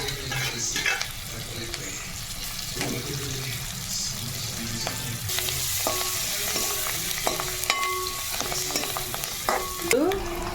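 Curry leaves and chilli powder fry in a hot pan for chickpea guggillu, giving a steady close sizzle with scattered stirring clinks and scrapes throughout.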